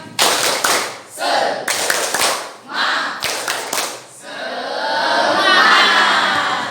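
A school class claps together in quick rhythmic bursts, pausing briefly between patterns, then breaks into a sustained round of applause.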